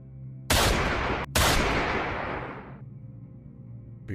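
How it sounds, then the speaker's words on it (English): Two loud gunshots close together, the second ringing out in a long echoing decay before fading into quiet room tone; no voices. "Dusting off my hands, and I turned to walk out and heard gunshots."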